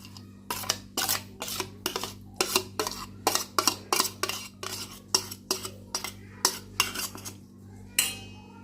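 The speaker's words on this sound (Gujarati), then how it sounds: "ત્યારબાદ આપણે આને સારી રીતે મસાલામાં મિક્સ કરી દઈશું." Tomato puree mixed into masala in a pan with a metal spoon, about twenty evenly spaced scraping clinks in a steady rhythm over a low hum, close and clear, no speech.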